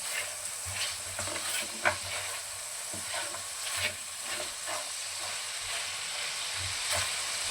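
Rock sugar melting in a hot pan while cooking pork ribs, giving a constant close hiss and sizzle with occasional soft stirring knocks and scrapes throughout, no one talking.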